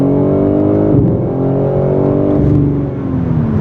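A BMW M3 xDrive launching with launch control, its artificially enhanced engine sound revving hard through rising gears, loud and close, pitch climbing then dropping at each shift.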